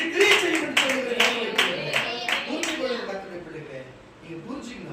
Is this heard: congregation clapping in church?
yes